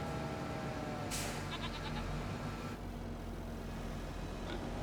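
Sheep in Farming Simulator 25 bleat briefly over a steady farm-machinery drone, with a short burst of bleats early on and a fainter call near the end.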